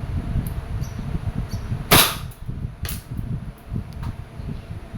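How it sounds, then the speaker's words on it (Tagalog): A WG 708 airsoft revolver fires double action, giving two sharp, loud snapping shots about a second apart over a low, steady background hum. "And then now, let's do the double action."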